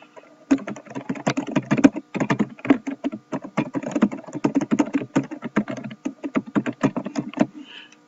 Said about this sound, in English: So you simply type your response in here.